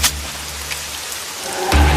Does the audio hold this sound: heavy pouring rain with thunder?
yes